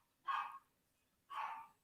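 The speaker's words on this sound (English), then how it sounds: "So sorry, dogs barking." Dogs barking indoors nearby, two separate sharp barks about a second apart, fairly faint, with no talking.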